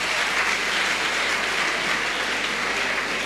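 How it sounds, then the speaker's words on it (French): A church congregation claps in sustained, dense applause at a New Year's Eve service, a steady wash of many hands filling the room without pause. "Give a round of applause to God."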